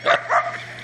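A dog barks twice, close and fairly loud, in quick succession outdoors at a rural property during a fishing outing.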